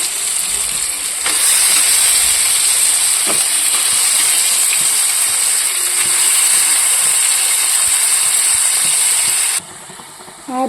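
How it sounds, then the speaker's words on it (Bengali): Meat goes into a pan of sizzling spice paste made with chilli powder and Kashmiri chilli powder, and a loud, continuous hiss and sizzle fills the pan. A faint scrape comes at the start, and the sizzle drops away sharply near the end. "এবার মাংসগুলো দিয়ে দিচ্ছি"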